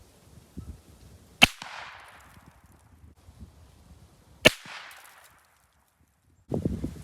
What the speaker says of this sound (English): So I'm going to shoot it again.